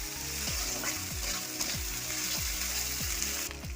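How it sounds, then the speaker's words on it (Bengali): Curry ingredients with chilli powder and salt stirred in a hot pan for potol dorma, a continuous sizzle with stirring scrapes, background music running under it. "সব কটা উপকরণ নিয়ে আমি নেড়ে চেড়ে নিচ্ছি"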